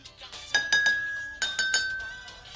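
Two water-filled glasses are struck with a spoon in quick clusters of clear ringing pings, each tone lingering and slowly decaying; close, crisp and without voices.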